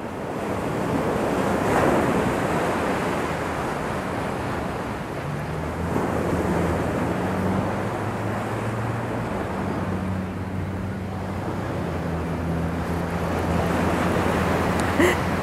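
Ocean waves wash onto a beach in a continuous broad rush, with repeated swells and wind buffeting the microphone, loud and close, with no voices.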